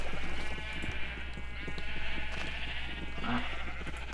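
Sheep bleat in the Minecraft video game, a few short nasal calls rising over a steady background hum, with players talking quietly around them.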